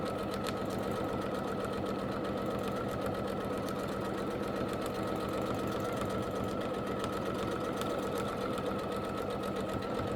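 A sewing machine running steadily during free-motion couching quilting, its dense, even stitching hum continuing unbroken for the whole stretch at close range with no talk.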